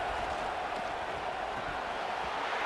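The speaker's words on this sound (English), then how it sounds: "This Boise State crowd bringing the noise. It's deafening here on third down." A Boise State stadium crowd in College Football 26 roars on third down as a steady, dense wall of noise, loud and unbroken from start to finish.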